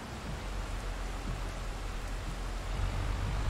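Steady rain in Farming Simulator 22 during a field cultivation job, a constant broadband hiss of falling drops that holds even and unbroken throughout, slightly louder toward the end, with no voices.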